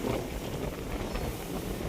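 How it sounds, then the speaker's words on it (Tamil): Strong wind buffets the microphone on a hilltop near Kanyakumari overlooking the sea, a loud continuous roar and rumble with no break throughout. "காற்று சாத்தியாக பலமாக அடிக்குது."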